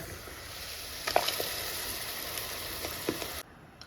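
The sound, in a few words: pouring ground paste into jackfruit seed curry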